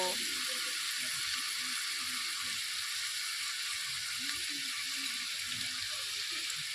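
A tomato and garlic mixture spiced with cumin and coriander powder fries in a pan, a soft, steady sizzle with faint scraping running under a voice.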